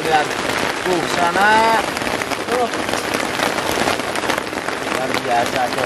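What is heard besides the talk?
rain falling on a hillside shelter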